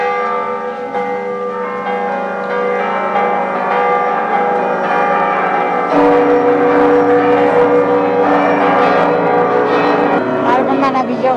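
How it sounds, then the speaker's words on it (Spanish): Church bells of Puebla Cathedral ringing together in a dense, sustained peal, loud and continuous with overlapping tones, alongside some background noise. "Lo dejo con esto, que pareció un concierto de campanas."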